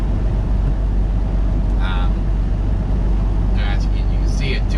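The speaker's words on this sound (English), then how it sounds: "you can hear the slush underneath my wheels" A car drives along a snowy Wisconsin-to-Minnesota highway where the plowing has stopped, tires churning through slush with a constant loud rumbling wash and low road roar, joined by a few brief bird-like chirps.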